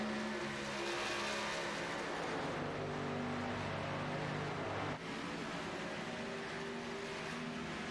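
Simulated race cars pull away from pit road at Pocono in a sim racing game, a faint, layered engine drone with steady tones that shift pitch midway, no voices.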